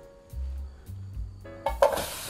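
Pineapple filling heated in a pan with a splash of mineral water, giving soft sizzling, bubbling and stirring noises. Low rumbling runs beneath them, and a brighter hiss and clatter build up near the end.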